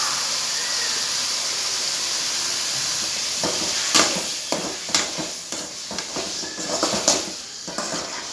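Paste of ground poppy seed, cumin and shallots goes into a hot pan for mutton curry, raising a steady hiss and sizzle broken by clinking, scraping stirs of a spoon against the pan.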